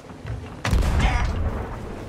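Ship cannon firing a cannonball in Sea of Thieves: a single heavy, deep boom that strikes suddenly, then rumbles and fades slowly over a faint background.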